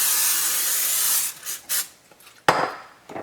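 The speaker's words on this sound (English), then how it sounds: "You're going to spray some olive oil." A few short hissing sprays of olive oil in quick bursts, close by, with light rubbing and handling noises between them.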